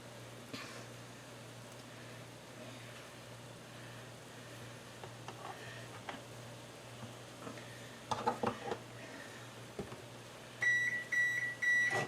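A short series of electronic beeps from an oven signalling it has finished preheating, heard near the end after faint kitchen clatter over a low steady hum.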